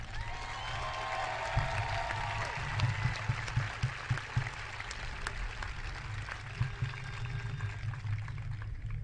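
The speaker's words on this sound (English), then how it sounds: "Let's give them a round of applause." Sustained applause from a graduation audience for a high school graduating class, a dense even wash of many hands clapping at moderate distance across the whole stretch, with no talk over it.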